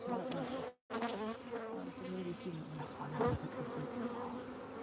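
Honeybees buzz steadily around an opened hive frame of brood, a dense close hum filling the clip with a brief dropout near the start.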